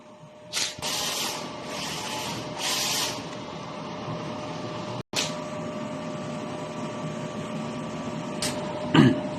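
An inkjet printer runs a nozzle test after head cleaning and a wiper pass, giving a steady mechanical whir with a few short bursts of carriage and feed noise and a brief clunk. It sounds close and there is no talk.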